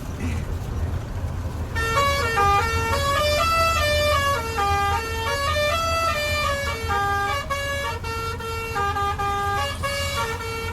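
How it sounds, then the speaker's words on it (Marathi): A loud truck musical horn plays a stepping song melody, note after note, continuously over a low engine rumble. "डीजे कशाला लागते सॉंग लावायचं नुसतं हॉर्नवर"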